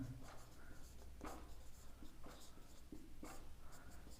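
Chalk or a marker scratches across a board during a Class 10 maths lesson, writing in short strokes with regular pauses against a low steady background hum, with no voice heard.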